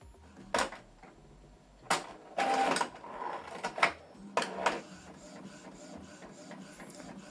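An Epson EcoTank ET-2862 printer prints a photo on glossy paper: several sharp mechanical clicks and clunks, a whirring feed burst, then a quieter steady hum of the print head moving, close and alone.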